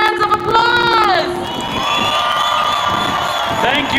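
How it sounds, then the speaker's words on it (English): A large crowd at a Palestinian solidarity rally outside the Israeli consulate in San Francisco cheers and whoops loudly, with high shouts rising over a steady roar of voices. "everybody please give yourselves and give Munadhir a warm hands of applause"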